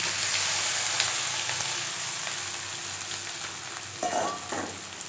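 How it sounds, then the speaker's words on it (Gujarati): Dhokla pieces sizzle steadily in an oil tempering of curry leaves and sesame seeds in a multi kadai, a continuous close frying hiss with a brief stirring scrape near the end. "3-4 મીઠા લીમડાના પાન, અડધી ટીસ્પૂન તલ એડ કરી અને આપણે ઢોકળા અંદર એડ કરી દઈશું."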